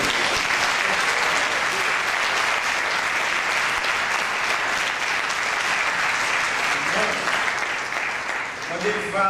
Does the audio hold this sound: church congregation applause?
yes